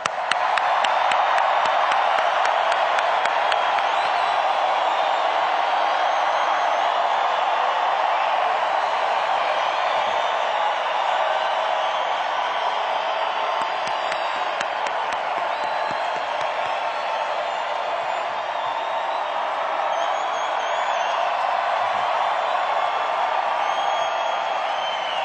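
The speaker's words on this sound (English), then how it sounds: "let's give a round of applause louder than we've given since we've been in this convention" A large convention audience applauds and cheers, a sustained, dense roar of clapping and whoops that stays loud for the whole stretch without pause, with crowd noise filling the room.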